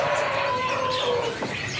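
A caged bird calls at a bird market kiosk with a short run of chirps and coos, close by, mixed with a busy background and some talking.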